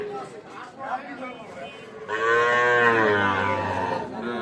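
At Ambari cattle market, young bull calves and cattle low amid murmuring crowd voices, then one loud, drawn-out moo close by dominates the second half.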